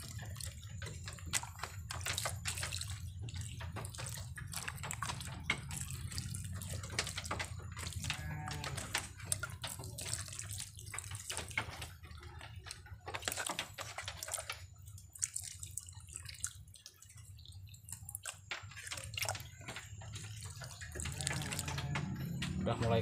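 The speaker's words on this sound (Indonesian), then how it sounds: "setelah ini lalu kita siram sobat sampai benar-benar genap" Water pours and splashes as potted rose plants are watered, a steady faint trickling and dripping with a voice speaking over it.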